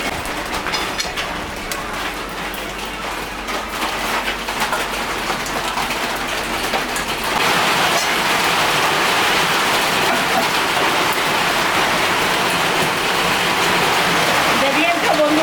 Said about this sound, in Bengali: আজকে আমাদের এখানে বৃষ্টি নামছে